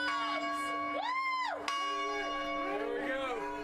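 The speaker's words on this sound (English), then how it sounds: "glad to have the chance to ring that victory bell" Victory bell rung by UGA fans in Athens after a national title, sustained bright clangs ringing out with layered overtones over crowd noise and a reporter's voice.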